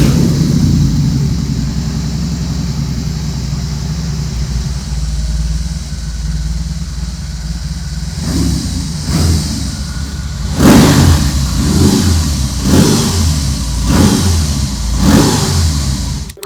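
A 2022 BMW R18 Bagger's boxer twin rumbles at idle through its twin exhaust, then gets blipped in a series of loud, sharp revs that rise and fall repeatedly, close up, with no talking.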